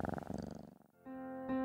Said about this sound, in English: the cat purred and blinked her eyes